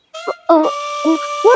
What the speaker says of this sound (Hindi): वो कौवा था